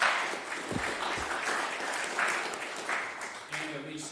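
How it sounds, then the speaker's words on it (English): Audience applause at a police reform public forum: a crowd claps steadily for a few seconds, fairly dense and moderately close, while voices talk underneath. "Let's have a round of applause for him"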